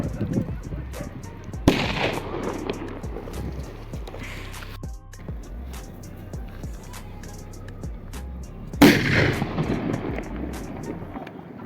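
VIP and sutli firecrackers go off in a power test, two loud, isolated bangs several seconds apart, each trailing into a ringing echo over low background noise.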